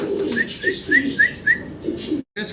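A pair of white Arabian pigeons coo close by in a rhythmic series of soft repeated calls, with a brief pause near the end before the cooing resumes.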